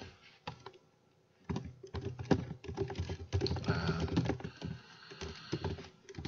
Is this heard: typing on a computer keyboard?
yes